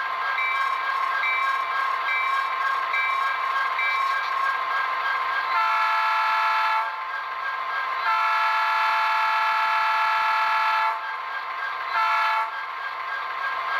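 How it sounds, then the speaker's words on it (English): An Athearn SD70M model locomotive sounds its bell and horn, a loud sustained electronic horn tone with a ringing bell pattern, cutting off and resuming in several bursts. "Listen to the bell and the horn."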